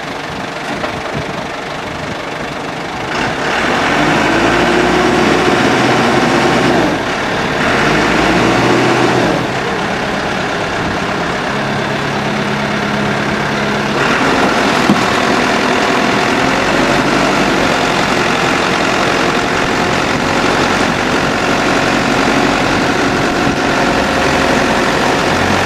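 A backhoe loader's heavy diesel engine idles steadily at a roadside pothole. A deep, continuous rumble stays loud and close, with slight shifts in level and no speech over it.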